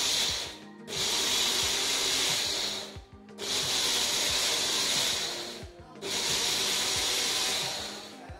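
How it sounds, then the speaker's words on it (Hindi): A kitchen mixer grinder (mixie) grinds garlic, tomato and green chili in three loud, whirring bursts, each lasting a couple of seconds, with brief pauses between them and no talking. "तो मैं इनको ग्राइंड कर लेती हूँ मिक्सी में"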